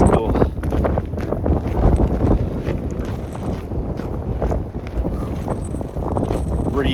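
Cold, breezy wind blowing outdoors across open farmland, a steady loud rush buffeting the microphone throughout with no break.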